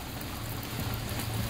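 Steady rain falling outdoors during arc welding of wheel centres, a dense continuous hiss close by and fairly loud throughout, with no talking.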